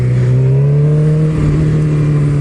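A car engine runs steadily close by, a strong low hum with a faint rise in pitch as it pulls away to leave, with no one talking.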